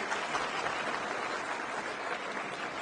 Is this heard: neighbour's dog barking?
no